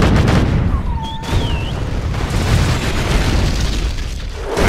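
Weapons fire and explosions in the real-time strategy game Mental Omega, a dense, loud barrage of booms and bursts with whistling projectile sweeps, continuous throughout.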